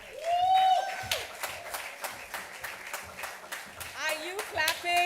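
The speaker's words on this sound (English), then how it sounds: "Are you clapping?" Audience clapping at a youth history competition grand finale, a steady patter of handclaps running through the clip beneath cheering voices and a girl's high-pitched vocalizing.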